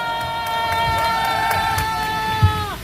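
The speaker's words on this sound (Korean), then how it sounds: "여러분 회장님과 경기도의사회 박수 한번 보내주세요" A large outdoor crowd at a protest rally of medical students' parents in front of the presidential office cheers and claps continuously, while a loud sustained horn-like tone rides over the noise and cuts off near the end.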